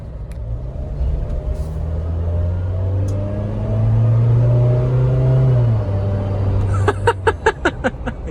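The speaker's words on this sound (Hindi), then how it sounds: "ट्रांसफर केस की है भाई, सारी उसमें आती है, थार में सब में आती है, ऑटोमेटिक में आती है, मैनुअल में नहीं आती" Transfer case whine from a Mahindra Thar diesel automatic driven in 4H: steady engine drone with a tonal whine that swells and fades, alone without talk, ending in a run of quick rhythmic clicks.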